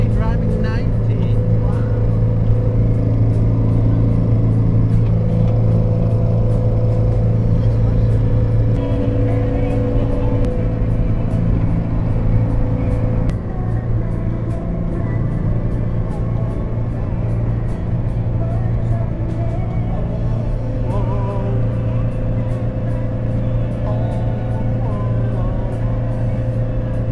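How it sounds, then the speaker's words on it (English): A Mercedes campervan cruising on a road in the Netherlands at around 90, a steady loud engine and road drone that holds almost unchanged throughout, with people talking over it. "We're really driving 90."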